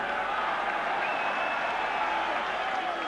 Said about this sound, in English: the crowd cheering off